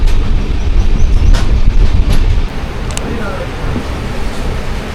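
Jamnagar Tirunelveli Express running, heard from inside a general coach as a loud, deep rumble of wheels with sharp rail clatters and clicks, easing slightly halfway through.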